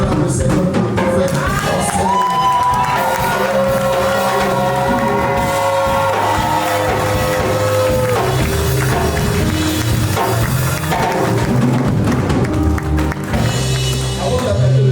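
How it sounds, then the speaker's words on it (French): A church congregation at a prayer vigil erupts in loud sustained acclamation for the Lord, with shouting, cheering and clapping from a packed crowd, voices overlapping continuously with instruments underneath. "je veux que tu acclames le Seigneur pour le prophète"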